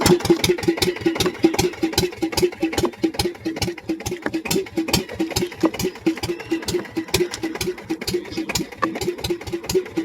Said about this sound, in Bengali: দাদু নৌকো চালাচ্ছে